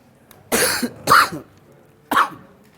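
Three harsh coughs come in a quick cluster, the last one after a short pause, each a rough burst against a quiet background.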